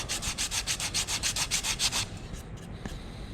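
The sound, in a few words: hand sanding a wooden picture frame with sandpaper on a block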